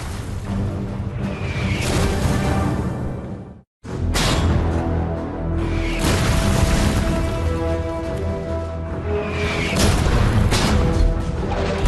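German gunfire and explosions in a World War II battle around an abbey, dense rumbling booms and crashes layered loudly over several seconds, cut by a brief silence before the barrage resumes.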